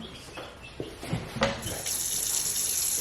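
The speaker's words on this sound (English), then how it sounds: "when adding your moisture, your water to the soil" Water poured from a container into potting soil in a bowl while starting tomato seedlings, a close running, splashing trickle that begins softly and swells into a steady pour, heard alone with no talking.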